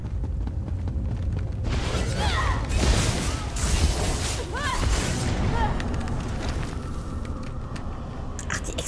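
Dull booms and crashing bursts as enemies explode on dying in The Elder Scrolls Online thud repeatedly under a steady noisy bed, with brief voice-like chirps mixed in.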